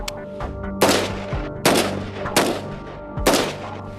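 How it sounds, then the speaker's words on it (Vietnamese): Four loud gunshots from an M4 rifle fired at a car door, spaced about a second apart, each a sharp crack with a ringing metallic tail, no talking. "Được, tôi sẽ thử với khẩu M4 trước."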